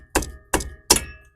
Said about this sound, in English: you might have to give it a couple whacks here just to loosen it